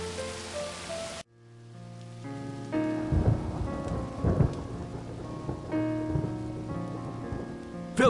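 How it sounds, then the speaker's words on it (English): In an Agatha Christie mystery video game, a thunderstorm brings steady rain, with several deep thunder rumbles and cracks rolling over a sustained low musical drone. "I tried to go out to get some more wood for the fire, but the wind drove me back. A storm like that will keep us all indoors."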